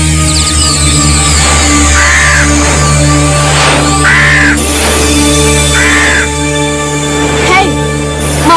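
A flock of crows caws in repeated bursts over a loud, steady background drone, the calls blending into a harsh cacophony at close range.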